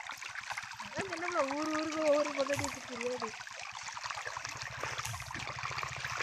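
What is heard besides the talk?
water rushing in a stream near a dam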